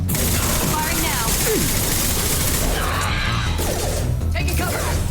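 Gunfire from the Mass Effect 2 video game fills the scene with bursts of shots and impacts over a dense, loud mix of combat noise, explosions and mechanical effects, with voices talking intermittently.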